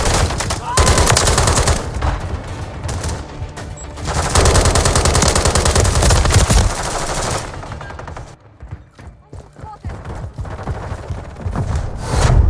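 Gunfire in Call of Duty Modern Warfare III multiplayer: loud, close bursts of rapid automatic fire with overlapping shots and occasional heavier booms, nearly continuous with a brief lull.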